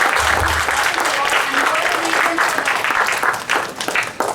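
Loud, dense applause from parents, teachers and children at a school parent orientation, steady and close, with a few voices faintly audible beneath before it begins thinning near the end.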